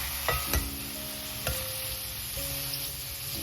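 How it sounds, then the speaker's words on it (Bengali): Mushrooms fry in a pan with a light film of oil, giving a soft steady sizzle with a few sharp utensil taps and scrapes against the pan. "আমার মাশরুমটা ভাজা হয়ে যাচ্ছে"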